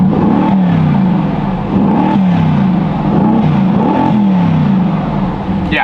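Inside the cabin of a Mercedes-AMG GT S fitted with a carbon air intake, the engine drones loud and steady, its pitch rising and falling through several revs with a whirring intake note and no talk.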